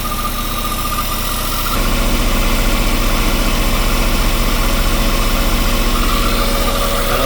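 A Westerbeke marine engine on a Boston Whaler idles steadily and loudly up close, with a constant low throbbing hum. The note thickens and gets a little louder partway through.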